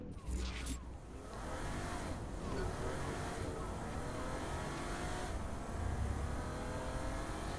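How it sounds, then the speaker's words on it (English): Car engine and road noise from driving in the video game Saints Row 4, a steady rumbling drone with brief revs, running the whole time with a little faint talk over it. "driving a car"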